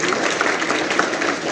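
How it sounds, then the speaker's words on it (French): A short stretch of crowd applause at a French community film premiere, steady dense clapping at fairly loud level filling the whole moment. "Je pense qu'on peut les applaudir."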